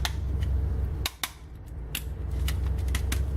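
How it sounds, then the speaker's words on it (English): The ratcheting arm and elbow joints of a Transformers Generations Grimlock toy click in a handful of sharp, close snaps scattered over a few seconds, with no talking. "He has ratchet arms and elbows."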